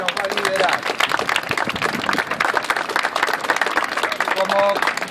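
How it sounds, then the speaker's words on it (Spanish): Outdoor crowd clapping and applauding for a ceremonial Scottish guard leading a West Highland terrier walk in Puerto Madero, dense claps mixed with chatter and a few short musical tones. "Quiero un aplauso para el grupo que nos va a liderar."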